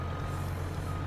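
A truck reversing in Farming Simulator 22, a low steady engine drone with a faint continuous reversing tone, brief and even in loudness.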